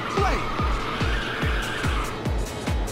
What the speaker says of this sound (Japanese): 今回はうまくドリフトできたか。